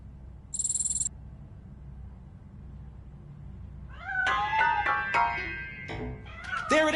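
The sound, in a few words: cat meowing in video game Robocop Rogue City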